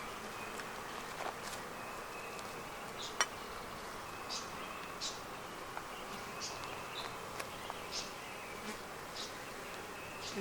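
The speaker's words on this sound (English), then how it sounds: "These bees are on me." Honey bees buzz steadily around an open Flow Hive during a hive inspection, a dense close swarm hum with individual insects zipping past the ear now and then, no talking.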